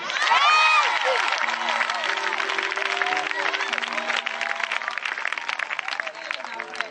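A church congregation at an evangelistic campaign claps and cheers in praise, a loud, sustained crowd roar with shouting voices rising over it from start to finish.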